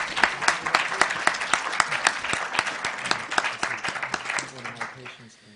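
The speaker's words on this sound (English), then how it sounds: "can we have a round of applause for all 4 of our debaters" Audience applause at a Stanford Medical School debate rings out for the four debaters: dense steady clapping from a crowd that holds strong and then thins and fades out near the end.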